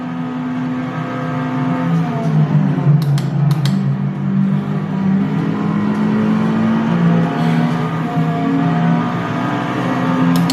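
Race cars in the Automobilista 2 racing game, IMSA GTP and GT3 machines at Le Mans, engines droning and whining as they weave through traffic, steady loud roar with shifting pitch and brief passing whooshes.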